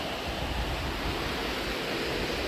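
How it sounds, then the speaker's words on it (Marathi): A strong water current rushes through a village river in the Konkan countryside, making a steady, loud, unbroken roar of moving water with no voices. "थोडं त्या साईडला पाण्याचा झोत जास्त आहे"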